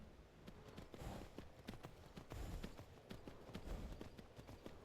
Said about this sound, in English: even though it's the horse that's sprinting